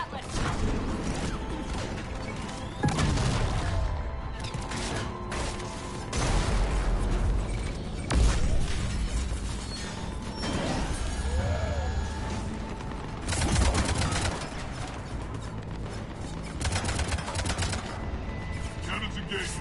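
Heavy cannon fire in Mass Effect 3, with booming blasts recurring every few seconds over a dense, continuous battle din of gunfire and mechanical noise.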